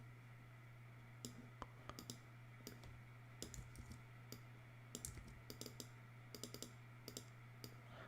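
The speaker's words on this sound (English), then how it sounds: "Sorry about all the clicking." Sharp computer mouse clicks tapping away irregularly at a desk during a live astronomy stream, scattered in small bursts over a steady low electrical hum, close and fairly quiet.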